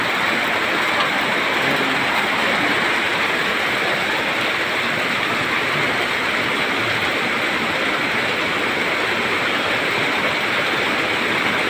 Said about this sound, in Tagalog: Lumalakas na yung ano ng ilog.